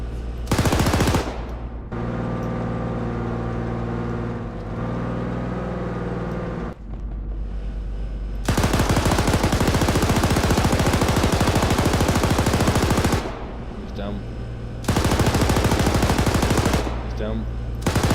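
Loud sustained machine-gun bursts in Arma 3 on a Liberation Chernarus airfield assault, long rattling volleys separated by short pauses, close and dominant with an engine drone underneath.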